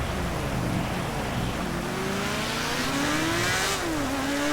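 A race car engine revving hard in GTA V, set to race mode while driving through rain in Los Santos, rising and shifting pitch as it accelerates, loud and steady throughout with no talking.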